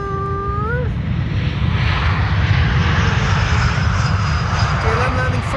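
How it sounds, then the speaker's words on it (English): An Embraer E2 jet airliner touches down at Amsterdam Schiphol Airport, its engine roar a steady, loud broadband rumble throughout, with a faint chirp-like tone near the start. "Floaty touchdown of the E2"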